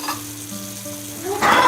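Food frying in a pan, giving a continuous close sizzle that swells into a louder, brighter burst near the end.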